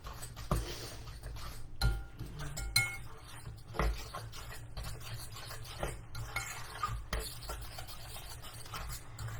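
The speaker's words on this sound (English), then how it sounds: "I'm just using my fork for stirring this up." Fork stirring banana bread batter in a bowl, with quiet, close, irregular scraping and clinking of metal against the bowl throughout and no talking.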